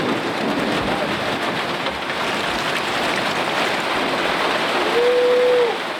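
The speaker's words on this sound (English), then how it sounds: "But eventually, the rains passed." Steady, dense rain hisses without a break as a thunderstorm passes, with a brief rising tonal whine near the end.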